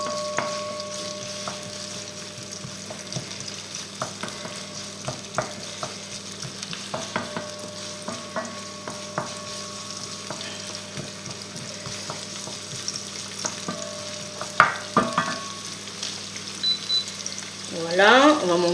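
Chicken curry simmers and sizzles gently in a pan while a utensil scrapes and clinks against it in irregular strokes, close and clear throughout.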